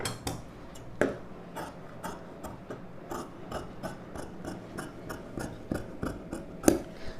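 Scissors cut a U-neck shape into blouse fabric with a steady series of sharp snipping clicks, fairly close and fairly quiet, repeating at an even pace throughout.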